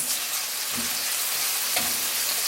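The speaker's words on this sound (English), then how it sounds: "So we're gonna cook our spices" Dried savory and other spices fry in a pan for a vegan nopales curry, giving a steady, close hiss of sizzling oil with a couple of soft scraping stirs.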